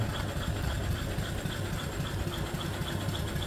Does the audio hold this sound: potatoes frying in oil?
no